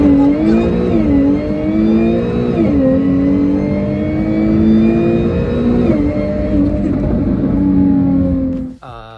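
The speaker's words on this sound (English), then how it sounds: "with this combination you're going to get all of the supercharger whine that you could possibly want" A Jaguar F-Type fitted with a Mina Gallery lower intake revs up and down repeatedly, its loud supercharger whine climbing and falling in pitch over a throaty engine, close and continuous with no one talking.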